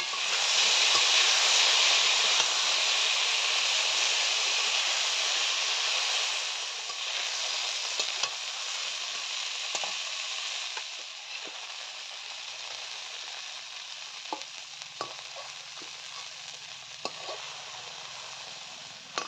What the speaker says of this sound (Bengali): যেমনভাবে বেগুন ভাজি সেইভাবে ঠিক পুরোটা বেগুনটা ভেজে নেব